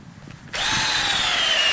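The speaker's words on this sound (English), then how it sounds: "And we will drill in" A cordless drill bores a hay probe into a hay bale, starting abruptly after a brief quiet moment and then holding a loud, steady whine with a slowly falling pitch, close up and with no talking.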